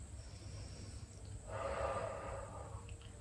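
A single slow, deep exhale through the mouth during a neck stretching exercise, soft and close in an otherwise quiet room.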